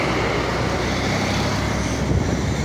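Heavy road traffic at Karla Phata junction near Lonavala, a loud continuous roar of passing vehicles with wind buffeting the microphone and no clear voices.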